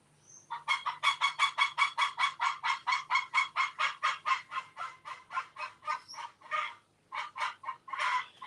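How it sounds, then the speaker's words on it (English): A chicken gives an unusual run of rapid, evenly spaced honking squawks, loud and close, that later break into irregular bursts, with no talking over it. "I don't know what's up with that chicken. That's a different sound, isn't it?"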